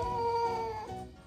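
A single drawn-out meow from a newly adopted cat, close by and clear, holding a steady pitch before dropping and fading at the end.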